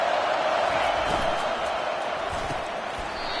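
Stadium crowd roar from a football video game on a third-down play, a steady, dense wash of noise that holds loud and constant throughout, with no clear swell or individual cheers standing out.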